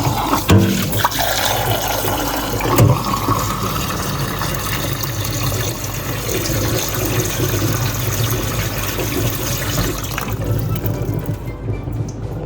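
Kangen SD501 water ionizer with a brand new filter dispensing 9.5 pH alkaline water, a steady close rushing and splashing stream running continuously for several seconds.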